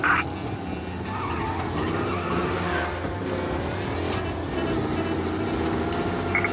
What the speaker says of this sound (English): A race car driving at speed through the city.